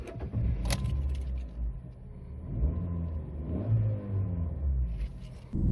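A 2009 Fiat Panda Mark III with a 1.2 engine pulls away for a drive, its steady low rumble and rising revs heard close up, with a brief jangle of keys near the start.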